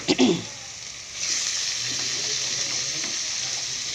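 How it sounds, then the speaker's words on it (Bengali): Chicken meat frying with onions in a pan, a steady loud sizzle with hissing after a brief clatter at the start, continuing without speech. "মাংসটা একটু ভেজে নেব পেঁয়াজের সাথে"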